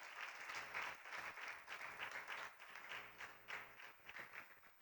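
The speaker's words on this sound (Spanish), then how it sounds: "Démosle palmas al Señor ahora" A church congregation applauding during a Spanish-language sermon, a steady, distant wash of many hands clapping in a reverberant hall, fairly quiet and with no talking.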